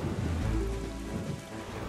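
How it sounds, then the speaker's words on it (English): Stormy weather in Zelda Wind Waker HD: a steady wash of heavy rain with low rolling thunder rumbling underneath, constant and fairly quiet throughout, with no voices. "It's getting stormy over there"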